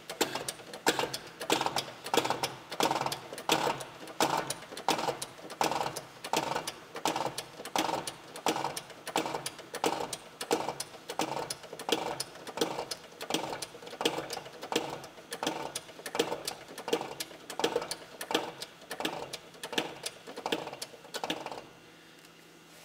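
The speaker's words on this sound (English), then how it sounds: "now pump to lift the spoons" A hydraulic hand pump being worked to lift the spoons of an iron tire tool, steady repeated mechanical clacking strokes at an even rhythm, close and loud, stopping near the end.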